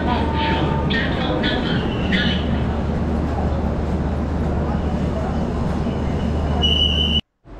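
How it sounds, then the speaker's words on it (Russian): A Delhi metro train rumbles steadily with a low hum and rushing noise, a few brief higher tones over it, before cutting off abruptly near the end. "Метро Дели – недорогой, быстрый и комфортабельный вид транспорта"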